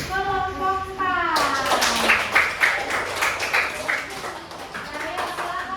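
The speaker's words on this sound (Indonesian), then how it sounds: "tepuk tangan untuk kelompok A" After a short spoken phrase, students in a classroom break into brisk clapping for a group, the individual claps distinct and close, easing off toward the end as talk returns.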